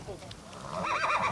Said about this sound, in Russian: Тот жеребец карачаевской породы.